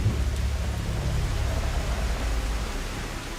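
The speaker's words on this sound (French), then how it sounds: "on a eu de la pluie, mais pas à ce point" Heavy rain pours steadily through a stormy night on an island survival camp, a dense, loud, unbroken hiss with low rumbling underneath and no voices.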